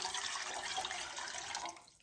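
Chicken broth poured into a soup pot for Zuppa Toscana, a soft steady splashing pour of liquid that continues evenly and cuts off near the end.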